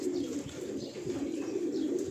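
An Andhra pigeon coos softly and repeatedly at close range over a low background hum, with no talking.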